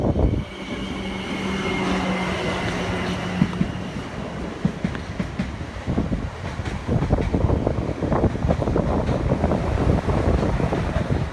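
Class 444 unit 444006 running from Weymouth to Southampton Central passes Totton level crossing in Hampshire, a rushing rumble of wheels and wind buffeting the microphone that builds and stays loud throughout, with a faint crossing alarm tone early on.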